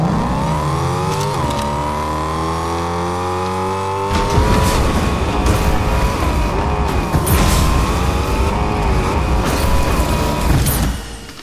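A car is driven in a video game. The engine begins with a steady rising whine, then roars louder as it accelerates hard, with rough mechanical noise and brief squeals, and cuts off at the end.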